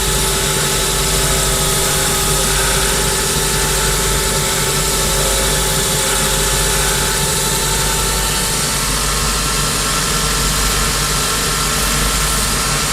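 A shoe trimmer machine grinds a Grenson shoe sole, a loud constant motorized whir with a steady hum and rough abrasive texture that stays unbroken throughout.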